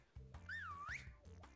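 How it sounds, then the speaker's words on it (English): A rising and falling whistle tone from the Drawful party video game signals that a player has finished drawing, sounding clearly alone for about half a second over low background hum. "It whistled when you were done."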